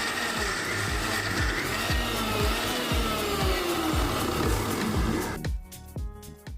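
Electric mixer grinding a thick falafel mixture, a loud steady whir with repeated rhythmic thumps of the blade churning the dense paste, cutting off abruptly near the end into quiet.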